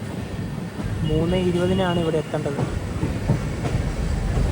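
Intercity Express train pulling into Thiruvananthapuram Central railway station, a steady rolling rumble with a rising-and-falling horn-like tone near the start, while someone speaks over it.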